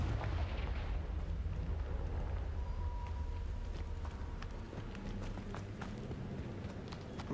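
Confringo blasting spell bursts in the Hogwarts Legacy video game: a dense rumble of explosive hits and crackling impacts over heavy low-end noise, moderately loud, with no voices over it.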